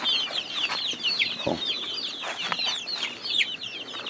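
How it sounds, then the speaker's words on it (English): A crowd of over a hundred chickens in a coop, clucking and chirping continuously and densely at close range, with the brief sound of someone entering and a short spoken exclamation. "Besides 562 chickens."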